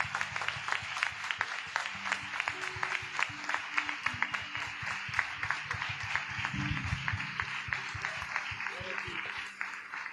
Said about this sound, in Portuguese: Vamos dar mais uma salva de palmas para o Senhor